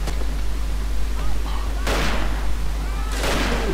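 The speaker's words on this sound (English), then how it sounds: "there's explosions, there's people shooting at each other" Gunfire and explosions in the World War I shooter game Verdun, broad bursts of noise standing out against a constant low rumble of battle, with some voices audible in the background.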